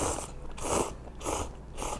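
Mala-flavoured cup noodles with glass noodles and dried tofu being eaten up close, with three soft bursts of chewing and slurping in a steady rhythm.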